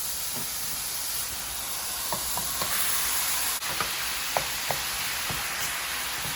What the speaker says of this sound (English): Now I will make another stuffing in the same pan and use the same oil. Now I will add the spinach.